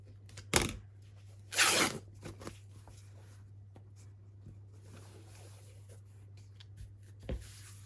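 Fabric selvage snipped and torn by hand, two quick tearing rips close by followed by faint rustling and handling noises over a low hum.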